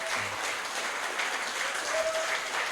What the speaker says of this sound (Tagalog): Palapakan po natin ang Panginoon ng malakas na malakas.